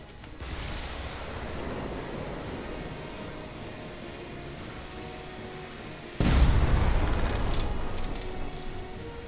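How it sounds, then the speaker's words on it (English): Airship cannons firing in the video game Airship Kingdoms Adrift: a sustained roaring, wash-like rumble that jumps into a louder, heavier blast partway through and then slowly tapers, with no talking. "Cannons, fire at will."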